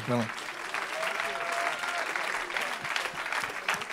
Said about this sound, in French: Est-ce qu'on peut encore applaudir chaleureusement toute cette équipe